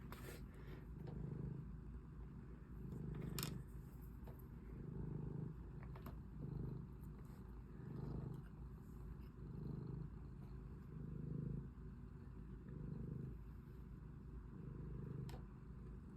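A cat purrs close by in a soft, rhythmic rumble, each breath a low pulse, with faint scrapes and clicks in the background.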